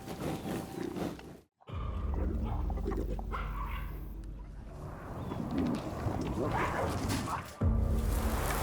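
African wild dogs clash with hyenas in the savanna, a continuous loud tumult of barks, yelps, grunts and whimpers with a brief drop-out near the start and a surge at the end.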